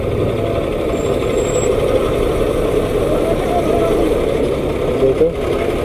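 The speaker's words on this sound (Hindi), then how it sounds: "बड़ा गाड़ी आ रहा है अभी आगे से" A large truck approaches head-on along a road, heard from a moving two-wheeler on a ride: a steady, heavy engine rumble blends into constant loud road and wind roar, with no clear peak.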